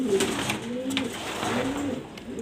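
An active pair of uncommon pigeons coo close by, repeated soft throaty rolling calls in quick succession over a faint background hum.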